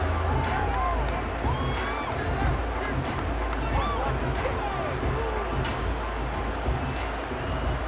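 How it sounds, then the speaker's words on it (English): Stadium crowd in the video game Madden NFL 23 roars and applauds steadily after a defensive stop, with dense sustained cheering, whistles and scattered shouts across the whole stretch. "How about some applause for the defense there?"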